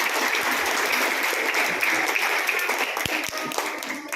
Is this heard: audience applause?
yes